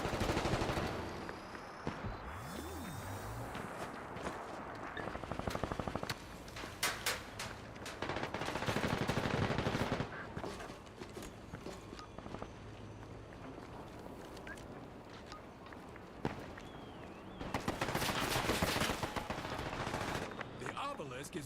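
Bursts of automatic gunfire and scattered shots in the Combat Champions video game, loud clusters coming and going over a busy battle backdrop, with talk running underneath at times.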